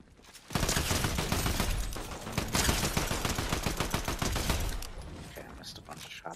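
Rapid video game gunfire in dense overlapping bursts, loud and sustained for several seconds before trailing off.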